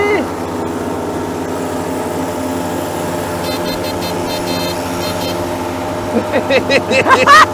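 A moped engine drones steadily with traffic noise on a mountain climb, then revs up in rising bursts near the end, with voices talking faintly underneath.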